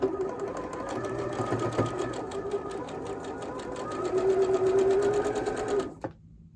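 Sewing machine chain stitching quilt block pieces, a steady fast whirring stitch run held for about six seconds at close range, then stopping abruptly.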